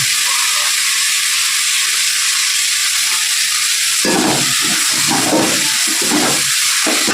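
Tomatoes with ginger garlic paste sizzle loudly in a hot pan with a steady broadband hiss, and the frying grows busier and crackling in the last few seconds.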